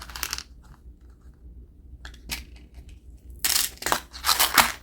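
A tarot deck is shuffled, with crisp riffling bursts of cards up close, separated by quieter pauses and a loud run of shuffling near the end.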